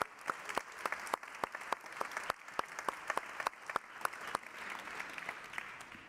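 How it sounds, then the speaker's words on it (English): An audience at an animal health forum gives applause: a steady patter of claps, moderately loud in a large hall, with a few sharp individual claps standing out over roughly six seconds. "I think he deserves another round of applause."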